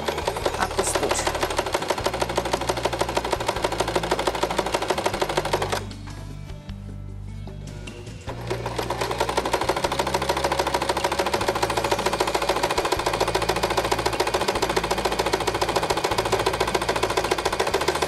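Sewing machine stitching a fabric placemat, a steady rapid needle rhythm running loud and close, with a short pause of about two seconds midway before the stitching resumes.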